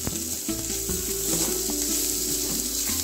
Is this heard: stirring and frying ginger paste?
yes